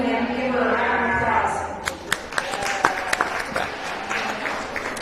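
Crowd applause rises at a county fair sheep show after a champion ewe lamb is presented, starting under an announcer's voice and swelling into a loud, steady clapping with sharp individual claps standing out.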